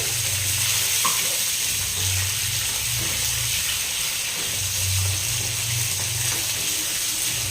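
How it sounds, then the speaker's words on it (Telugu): Stuffed brinjals fry in hot oil for a kurma: a continuous loud sizzle and hiss with occasional soft stirring scrapes and low bubbling underneath. "ఫ్రై చేసుకుంటే"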